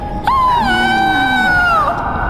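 A woman in a Hindi horror animation lets out a loud, sustained, high-pitched scream. It lasts nearly two seconds, wavers slightly and falls off at the end, with no other sounds around it.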